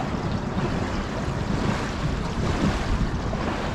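A gust of wind buffets the microphone while choppy water slaps around a sailing dinghy beating upwind on the River Dee, a steady, loud rushing roar with no voices.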